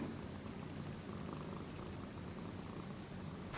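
A cat purrs steadily up close, a soft continuous rumbling drone with no pauses.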